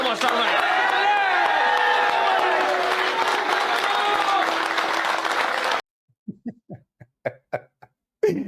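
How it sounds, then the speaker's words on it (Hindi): A group applauds itself with sustained, dense clapping, with speech and a tonal voice running over it, then the clapping cuts off and a few isolated spoken sounds follow. "अभी हम क्लेप करेंगे अपने लिए, मगर वो क्लेपिंग ऐसे हो कि हम चैंपियन हो"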